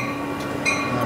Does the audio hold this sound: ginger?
no